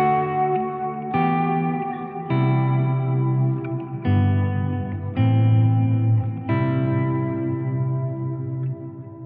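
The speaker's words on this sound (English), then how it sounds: "if I hit the third one, I just have that set to be even more delay and reverb." Electric guitar chords played through a Line 6 HX Stomp ring out one after another, each strum washing into long echoing delay repeats and a spacious reverb tail that overlaps the next.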